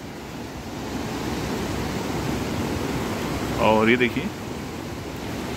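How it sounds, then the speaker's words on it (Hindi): The flooding Beas River rushes in a steady, broad roar of turbulent water, while someone speaks briefly over it. "ये देखिए ब्यास नदी यहाँ से नीचे को आ रही है"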